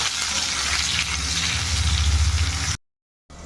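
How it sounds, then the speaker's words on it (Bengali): Potatoes fry in hot oil in a wok, giving a loud, steady close sizzle and crackle that stops abruptly near the end before resuming briefly. "এই তেলের মধ্যেই আমি আলুগুলো ছেড়ে দেবো তো আলুগুলো দেওয়ার পরে আলুগুলো একটু আমি লাল লাল করে ভেজে নেব"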